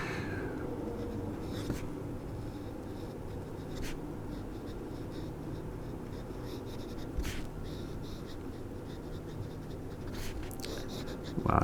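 A Lamy Studio fountain pen scratches softly across cheap office copy paper, a faint, continuous nib scratch with occasional brief pauses, heard close and alone.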